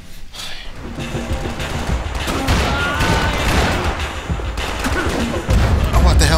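Gunfire from the video game Max Payne 3 rings out in a dense, sustained barrage, loud and continuous with heavy low thumps and booms layered throughout, no gaps of quiet across the stretch.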